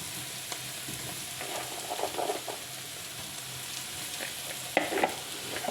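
Cabbage is stir-fried in a pan for Larxa buns, a Chinese-Italian fusion bun, giving a quiet steady sizzle broken by a few soft scrapes and stirring clatters near the end.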